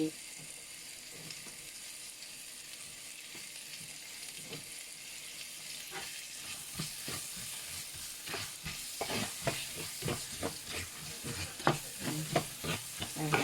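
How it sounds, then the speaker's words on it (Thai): Onions stir-fry in a pan for Thai-style chilli paste spaghetti, with a soft sizzle under spatula scrapes that start sparse and grow louder and more rhythmic toward the end. "ผัดให้หอมเลย"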